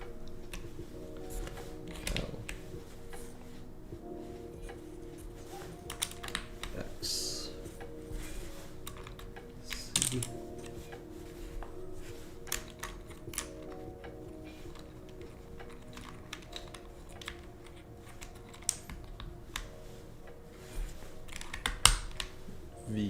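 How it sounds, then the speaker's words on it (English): Clicking from a computer keyboard being set up, with scattered irregular taps and ticks over a low steady hum, fairly faint and close. "I'm almost done setting my keyboard back up."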